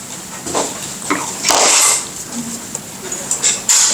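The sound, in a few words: cheap Walmart scissors cutting craft fur block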